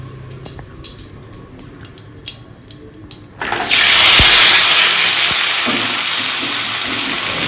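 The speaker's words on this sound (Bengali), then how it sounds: "কড়াতে একটুখানি জিরে ফোড়ন দিয়েছি" Cumin seeds hit hot oil in a kadai with a sudden loud sizzle partway through, following quieter clinks and rustles, then a steady broad frying hiss that continues to the end.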